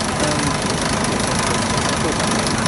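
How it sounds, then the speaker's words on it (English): A model traction engine, a small agricultural steam engine for driving a plough or stone crusher, runs steadily at an autumn show in Malvern, making a continuous broadband chuffing rumble. Voices mix with the engine noise. "I think this is just another model traction engine"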